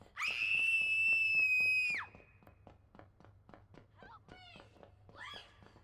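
A woman's loud, sustained high scream in the horror game Outlast II lasts about two seconds, then cuts off into steady footstep-like thuds over a low hum, with a few fainter shrill cries later.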